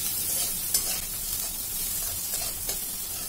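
Vegetables with turmeric for semolina upma sizzle steadily in a pan while a spoon stirs and scrapes through them in light, irregular strokes, close and continuous, with no talking.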